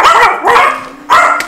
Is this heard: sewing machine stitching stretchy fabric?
no